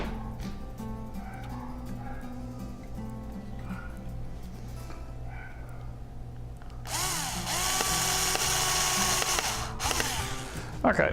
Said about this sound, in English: Now I'm gonna go ahead and screw this in.